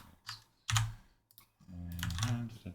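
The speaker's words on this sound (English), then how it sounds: "I'm going to type in his name, whatever that is," Typing a username on a computer keyboard: a couple of short bursts of close, clattering keystrokes separated by brief pauses, with no talking.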